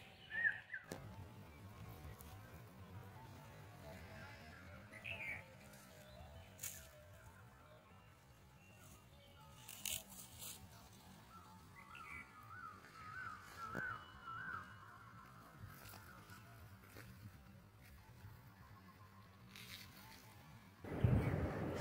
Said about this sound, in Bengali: তার মধ্যে কত ধরনের পাখির ডাক শোনা যাচ্ছে